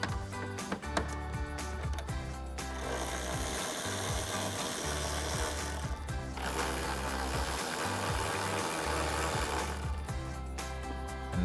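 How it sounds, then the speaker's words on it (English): An 8mm socket on a ratchet loosens tail light nuts on a 2016-2018 Camaro, producing quick bursts of clicking ratchet teeth and metallic rattles up close, with pauses between spells of turning. "we can grab an 8mm socket to remove our first 2 nuts"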